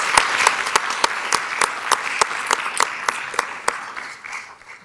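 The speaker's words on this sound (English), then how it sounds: "Let's give him one more round of applause." Applause at a school board meeting, a crowd clapping steadily with distinct sharp claps standing out, moderately loud and tapering off toward the end.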